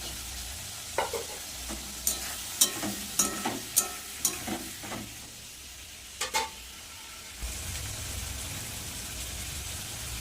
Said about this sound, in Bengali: এবার ভেজে নেবো তার সাথে চিংড়ি মাছগুলো